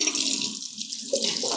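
Warm water runs from a tap into a laundry bag holding dirty clothes and dissolving detergent, a steady splashing stream close by that surges again near the end.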